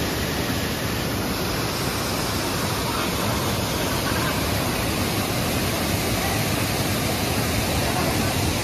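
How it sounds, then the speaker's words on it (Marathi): A tall waterfall in Devgad makes a dense, unbroken roar of falling water, loud and even for the whole stretch with no clear voices. "विचार करू शकतात केवढं मोठा धबधबा होतो."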